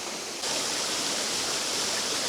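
Blairskaith Linn waterfall rushes in a steady broadband hiss of falling water. After a brief quieter moment it swells abruptly louder and then holds close and constant.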